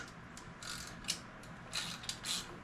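Quiet, scattered bursts of rapid clicking come from a socket ratchet fitted with an 11 mm deep socket as it turns a bolt on a car engine.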